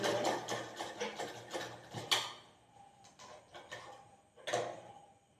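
Sewing machine stitching elastic on knickers in a crosswise pattern, rapid mechanical ticking clatter in short runs with pauses between, close and moderately loud.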